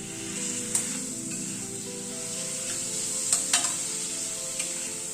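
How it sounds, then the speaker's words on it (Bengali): Chopped tomato fries with salt, turmeric and chili powder in a pan, a continuous close sizzle broken by a few scraping stirs. "টমেটোটা দিয়ে আবার একটু টমেটোটা একটু কষিয়ে নিচ্ছি মশলার সাথে"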